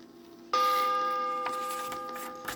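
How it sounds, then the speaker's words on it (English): A bright bell chime signals a page turn on a 1980 Raggedy Ann and Andy songbook record, one clear ring that starts abruptly and slowly decays, with faint clicks after it. "Remember, when you hear the chime,"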